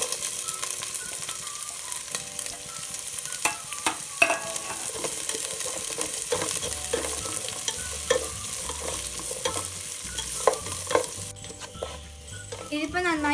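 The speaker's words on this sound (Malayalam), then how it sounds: "ഇനി ഇതിലോട്ട് ഒരു സവാള ചെറുതായി അരിഞ്ഞതും കൂടെ ഇട്ട് കൊടുക്കുക." Finely chopped onion sizzles and fries in a pan for kichadi, with steady crackling and repeated spoon stirring and scraping against the pan throughout, close and fairly quiet, with no talk.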